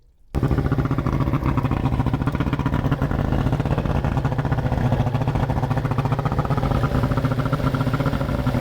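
A small outboard motor on a stick-steer bass boat runs steadily and loudly at a constant idle-like rumble during winterizing with fogging oil, starting abruptly after a brief moment of quiet.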